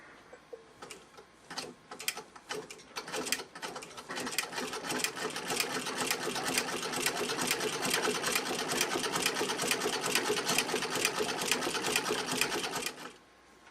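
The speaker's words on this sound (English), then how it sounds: "let's try that with a bit less pressure on the presser foot and a little less tension all around." Vintage straight stitch sewing machine running a zigzag stitch with reduced presser foot pressure and thread tension, a rapid steady mechanical clatter that starts in short bursts, then runs continuously before stopping abruptly, close and alone.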